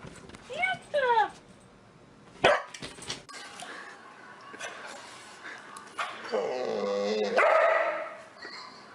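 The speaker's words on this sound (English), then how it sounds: "Are you barking?" A dog barks in a few short, sharp bursts spread across the stretch, fairly close, with a person talking and exclaiming in between and over the barks.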